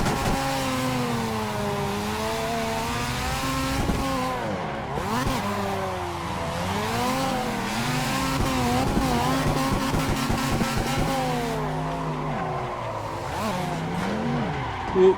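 A V8 DTM-style touring race car in a VR racing simulator roars continuously, its engine note climbing and dropping through gear changes and corners, with occasional tyre squeal, loud and close throughout.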